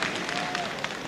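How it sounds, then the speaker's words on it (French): Applause and crowd noise from spectators at a 1961-62 France vs Spain friendly football match, a steady broad wash of clapping from a large stadium crowd, distant and sustained through the short moment. "Et il est applaudi."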